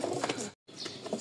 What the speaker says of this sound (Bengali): ওহ সেই ডাক, কবুতর নেবেন যদি ডাকই না হয় তাহলে কি হবে।